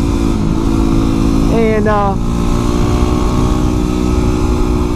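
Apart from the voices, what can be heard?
Honda CB1000R motorcycle engine riding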